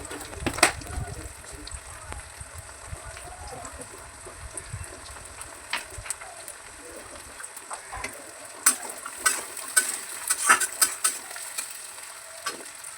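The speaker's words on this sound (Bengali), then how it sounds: "গোল্ডেন ব্রাউন করে ভেজে নেব" Cashews and chillies fry in a pan until golden brown, a soft, steady sizzle with scattered crackles and pops, and occasional scraping clicks from stirring, fairly quiet and close.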